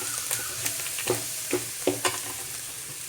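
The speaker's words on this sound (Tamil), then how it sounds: "இப்போ வந்து இந்த மிளகாத்தூள் வாசனை எல்லாம் போகிற அளவுக்கு நல்லா வந்து வணக்கி எடுத்துக்கலாம்" Fig poriyal sautéing with chili powder in a pan, sizzling steadily while a spatula scrapes through it in several brief, evenly spaced strokes, close up with no voices.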